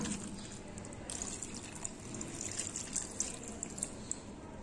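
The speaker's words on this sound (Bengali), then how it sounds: "এখন আমি দিয়ে দিব পানি" A steady, soft stream of water pouring into a pot of mutton stew, with light splashing and trickling, close by and fairly quiet.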